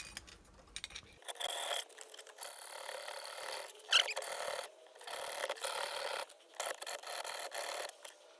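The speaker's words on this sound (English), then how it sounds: "we're now in the process of filing out this central hole to get it big enough to get the check strap through" A hand file rasps out a central hole in a flat metal reinforcer plate for a 1999 Daimler check strap, in repeated scraping strokes broken by short pauses, close and fairly quiet.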